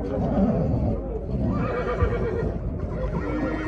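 Horses neighing and whinnying at the Jalal-Abad horse market, heard amid a dense, steady crowd din with people talking throughout.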